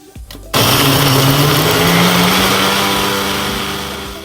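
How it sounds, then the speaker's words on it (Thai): Blender loudly grinding frozen chilies and garlic for chili sauce, starting abruptly after a quiet moment and then running steadily with a high motor whine that eases slightly toward the end. "คะพริกแช่แข็ง แล้วก็กระเทียม มาปั่นเลยค่ะ"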